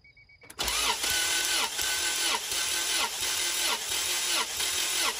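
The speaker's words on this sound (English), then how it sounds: "I'm gonna go ahead, turn the engine over 5 to 10 times" A Honda H22 engine cranks over on the starter during a compression test, a quick whine giving way to a steady rhythmic chug of about six even compression strokes, close and without firing.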